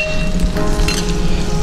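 Whole shallots and garlic frying in sesame oil over a slow flame, a steady close sizzle and crackle with no talk.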